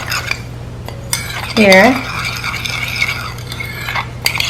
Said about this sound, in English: We're gonna mix in just a little bit of almond milk, just so it kind of overflows it, and then you're gonna stir it